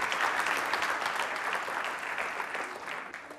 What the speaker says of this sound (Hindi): तालियां जोरों से बजाइए, जोरदार तरीके से तालियां बजाइए जोरों से आप।